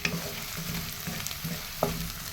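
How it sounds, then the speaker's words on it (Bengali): Chilies, garlic, onion and dried fish fry together in oil, a steady close sizzle with soft rhythmic stirring scrapes and one sharper clink near the end, no voices. "এখন আমি তেলে দিব এটা।"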